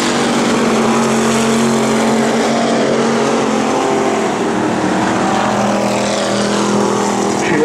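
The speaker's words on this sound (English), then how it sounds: "Speedway for third as Robert Plant Jr. leads the J3 car underneath Shelby Hill." Race cars in a speedway feature race roar around the track, a loud, continuous engine drone with shifting pitch as cars battle side by side, steady and close throughout.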